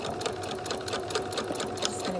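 A sewing machine top-stitches along a fabric edge on a singer's mask, running in a steady, fast, close mechanical whir with rapid needle ticks throughout and no pauses.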